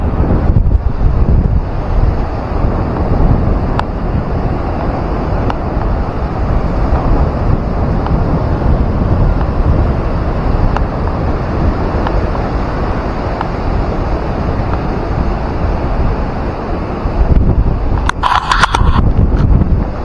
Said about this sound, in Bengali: শুধু সমুদ্র দেখুন, সমুদ্র, চারিদিকে সমুদ্র